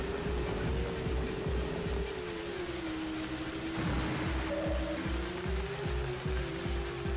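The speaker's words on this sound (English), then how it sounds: "It's so stressful when you hear the revving of the other cars" Engines of rival cars whine and rev continuously in the MS-DOS racing game Screamer Rally, a steady mid-pitched drone that rises and falls in pitch, loud and constant over rumbling road noise.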